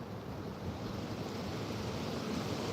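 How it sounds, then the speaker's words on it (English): Strong outdoor wind roars in a steady, dense rush with low buffeting against the microphone, continuous and close for the whole stretch, with no talk over it. "This wind is terrible right now for the string."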